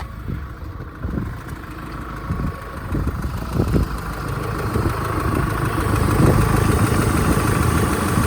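A 2.8 liter Duramax diesel engine in a 2021 Chevrolet Colorado idles steadily with a low rumbling chug, growing slightly louder toward the end, with occasional knocks and clatter nearby.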